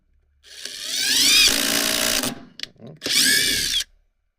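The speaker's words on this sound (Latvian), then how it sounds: "ja nenoslēdzot automātisko režīmu, skrūve tiek dzīta uz priekšu" A Keyang ID16BL-150I cordless impact driver in automatic mode drives a screw into wood, whining loudly for about two seconds, then brief stutters and a second short burst before stopping.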